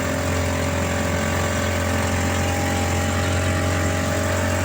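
A Suzuki Carry fitted with a Thunder 125 motorcycle engine runs with a steady, buzzy motorcycle-like drone, close and continuous, with no voices.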